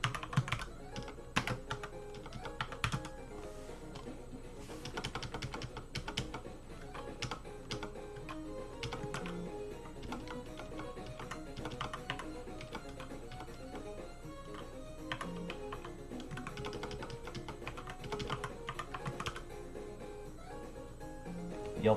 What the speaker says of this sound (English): you'll type in VirtualBox